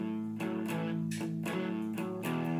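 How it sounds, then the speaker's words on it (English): A slow guitar boogie on a slightly distorted electric guitar, unhurried riff phrases repeating at an even, relaxed pace, close and alone. "Or you can have really slow boogies like this."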